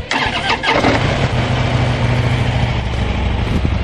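A 2013 Harley-Davidson motorcycle engine cranks and fires up, then settles into a loud, deep, lumpy idle close by.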